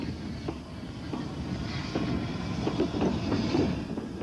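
The GWR steam locomotive Iron Duke rolls past with a rhythmic clickety-clack of wheels over rail joints, growing louder as it nears, with some wind buffeting the microphone.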